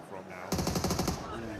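Rapid burst of automatic gunfire in PUBG Mobile during an esports grand final match, a dense string of loud close shots lasting about half a second to a second, following a moment of quieter background.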